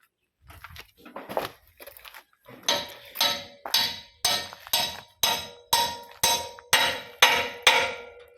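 Steady hammering on a used Kubota L3608 tractor, about ten sharp metallic blows in an even rhythm after a few irregular taps, loud and close.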